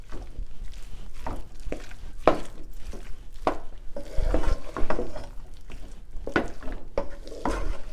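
Soybean chilli mixture stirred in a pan, with repeated scraping and clinking strokes of a spoon against the pan over a soft sizzle, the strokes coming in an uneven rhythm, close and moderately loud, with no talk.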